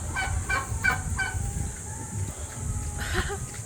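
Rapid turkey gobbles burst out several times over a steady outdoor background at a resort farm, moderately close, with a brief faint voice mixed in.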